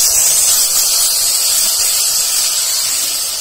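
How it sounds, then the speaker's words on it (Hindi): Masala with yellow mustard seeds fries in a hot pan for a village-cooked malgi fish dish, giving a loud, steady, close sizzling hiss throughout. "चलिए हम मसाला फ्राई करते हैं"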